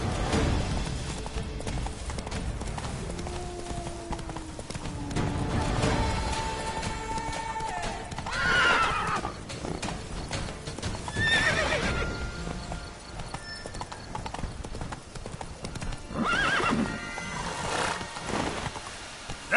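Roach, a horse in the video game The Witcher, gallops with steady clip-clop hoofbeats and lets out several loud neighs and whinnies over continuous background game sound.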